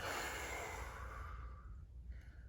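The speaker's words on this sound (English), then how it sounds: "Breathe in really big, and breathe out." A long, soft exhale during a kids' yoga breathing exercise, a gentle airy breath that fades out over a couple of seconds, quiet and close, with no talking.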